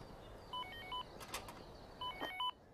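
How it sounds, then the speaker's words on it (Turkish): A telephone rings in a home, with two short bursts of electronic two-tone ringing a little apart, faint and alone over quiet room noise. "Telefon çalıyor."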